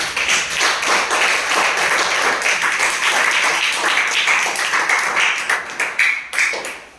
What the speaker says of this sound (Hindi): एक बार आप जोरदार ताली लगाएं